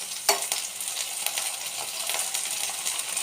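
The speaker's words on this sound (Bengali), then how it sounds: "ভাজার তেলেই একটু কালো জিরে ফোড়ন দেব, পেঁয়াজ কুচনো দিয়ে দেবো" Chopped onion and black cumin hit hot frying oil for an egg curry, the same oil the eggs were fried in, giving a steady, close crackling sizzle with a sharp clink near the start and no talking.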